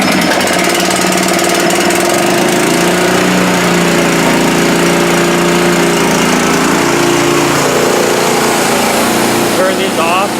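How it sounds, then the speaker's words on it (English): A pull-started Honda GX160 small engine runs steadily and loud for the whole stretch, a dense, buzzy high-revving drone close by with no pauses. "GX160 on it, so it should start right up"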